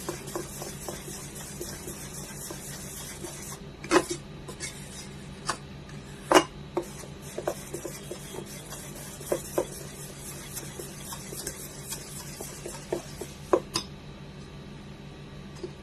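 A millet dosa batter with ginger and green chili is mixed in a bowl, giving soft wet squishing and rubbing under a quiet background, broken by a few sharp clinks of a spoon against the vessel.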